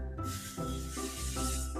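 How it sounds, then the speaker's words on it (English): Cooking spray hisses close by into a baking tin in a few quick back-to-back bursts, a sharp airy aerosol sound. "Spray the tin so nothing sticks."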